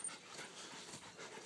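Terriers being readied for racing practice pant quickly and steadily at close range, a soft rapid breathy rhythm with faint whimpers mixed in.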